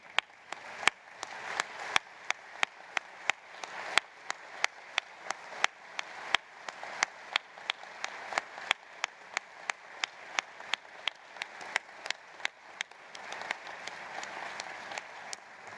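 A sparse, steady round of audience applause at a museum groundbreaking ceremony, heard at moderate distance with individual sharp claps standing out over a continuous patter for the full stretch.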